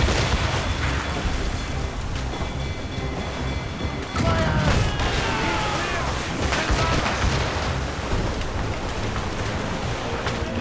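Ship cannons fire in a naval battle in Assassin's Creed Rogue, a run of loud booming blasts over constant sea and wind noise, with shouted commands from the crew.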